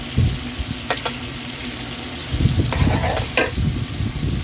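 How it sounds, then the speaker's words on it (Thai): Clams and basil stir-fried in a pan, loud close sizzling with repeated scraping strokes of a spatula against the metal, alone without talk. "ผัดไปเรื่อยให้หอม"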